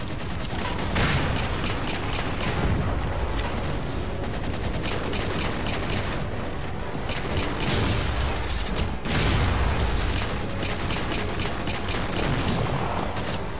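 Sustained weapon fire in Halo 4 Spartan Ops, a pistol shooting at Hunters, heard as a thick, continuous barrage of shots and heavy booms blended with loud battle noise throughout.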